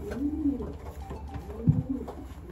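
A small-to-medium racing pigeon coos softly at close range, a couple of low rolling calls separated by a short pause, with faint background noise.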